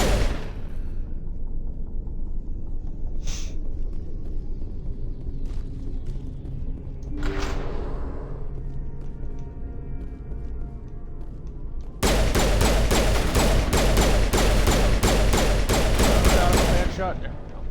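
Gunfire in the video game Mass Effect, scattered single shots at first, then a rapid, loud burst of automatic fire, with game noise throughout.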